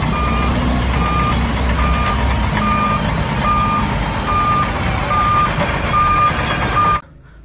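A toy dump truck trailer sounds evenly spaced electronic reversing beeps over a loud, steady hum, about nine beeps in a row, then it cuts to silence.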